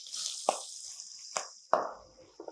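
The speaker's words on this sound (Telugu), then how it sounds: "వేసాక బీరకాయ ముక్కలు ఇందులో వేసేద్దాం" Ridge gourd pieces drop into hot oil seasoned with green chilli, curry leaves and turmeric, giving a few soft plops and sizzles spread over a couple of seconds, quiet and close, under a steady background hiss.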